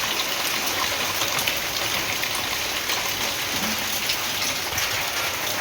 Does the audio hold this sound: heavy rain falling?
yes